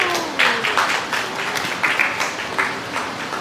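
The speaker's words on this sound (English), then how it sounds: "may we please continue the applause" Audience applause at a Society Interiors and Design magazine unveiling event, steady clapping with a few louder surges, with music or a faint tone running underneath throughout.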